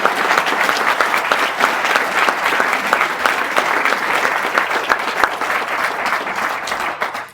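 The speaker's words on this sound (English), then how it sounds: "let's have a round of applause" Sustained, loud applause from an audience at a talk on political indoctrination in public schools, dense steady clapping for about seven seconds before cutting off.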